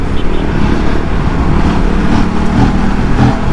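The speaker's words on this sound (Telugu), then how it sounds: "థ్రాటిల్ రెస్పాన్స్ చూడండి, థర్డ్ గేర్లో థ్రాటిల్ రెస్పాన్స్ మాత్రం నెక్స్ట్ లెవెల్." An Aprilia RS 457 motorcycle engine pulls hard on the throttle in third gear in sports mode, a loud, steady close-up roar with wind rush throughout and a voice talking over it.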